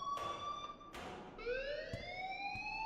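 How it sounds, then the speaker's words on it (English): An alarm in the Life is Strange video game sounds as sustained electronic tones with rising sweeps, faint and somewhat distant, broken by a couple of soft thumps. "please turn off that alarm since that's your job"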